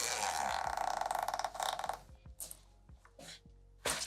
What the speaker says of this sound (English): now let's unzip this